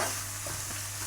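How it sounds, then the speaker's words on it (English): Squid calamari fries in hot oil, giving a brief, steady bright sizzle and crackle with no voices. "That's the last round of squid frying"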